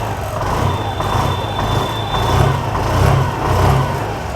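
A 2023 Honda Activa 125 scooter engine revs close by in several rising and falling swells over a steady idle hum, with a faint thin whine running above it.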